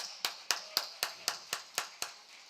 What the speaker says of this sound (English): Let's give a cheer for Aditya.